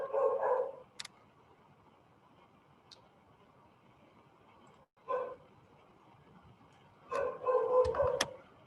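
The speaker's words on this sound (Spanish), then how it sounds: "Se activó la perra." A female dog barks in short bursts, once at the start, briefly midway and in a cluster near the end, fairly close amid quiet room tone, with small ticks between.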